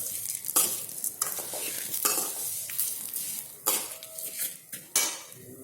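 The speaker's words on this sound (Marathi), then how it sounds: "जोपर्यंत शेवला रेड रेड कलर येत नाही तोपर्यंत भाजत राहा एकदम कमी गॅसवरती" Sev roasts in a pan over a very low gas flame, with repeated stirring scrapes and light metallic clinks that come in uneven bursts above a faint, dry sizzle.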